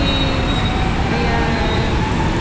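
Steady, dense rumble of an MRT metro train running past an overpass, broadband and continuous for the whole stretch with no clear break, heard close and fairly loud.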